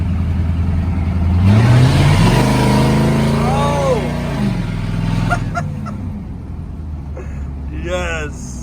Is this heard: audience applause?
no